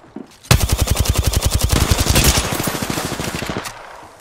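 Rapid automatic gunfire in the video game Apex Legends, a loud sustained burst of evenly spaced shots lasting about three seconds before trailing off.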